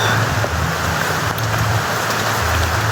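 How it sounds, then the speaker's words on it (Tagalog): Heavy rain pours steadily on a muddy mountain trail, a dense, even hiss with no let-up across the short stretch. "Sobrang ulan talaga mga idol."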